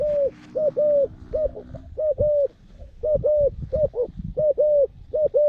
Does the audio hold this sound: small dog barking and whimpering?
no